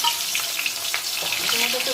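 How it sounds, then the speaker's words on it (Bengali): Fish head frying in hot oil gives a steady, loud sizzle with crackling spatters and occasional stirring scrapes throughout. "তেলটা গরম হয়ে গেছে দিয়ে দিচ্ছি মাছের মাথা"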